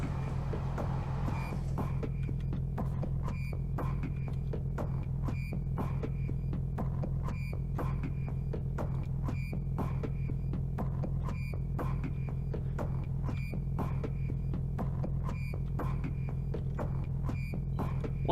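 A steady low mechanical hum and throb of an elevator running in a video game, continuous and even throughout, with faint regular ticking over the drone and no talk.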